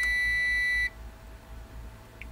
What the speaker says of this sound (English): The beeping sound is not too loud,